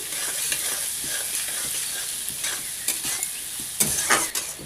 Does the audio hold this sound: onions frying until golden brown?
yes